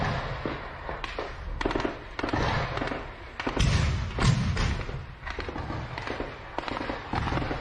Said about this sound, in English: We hear a BMP firing in the distance.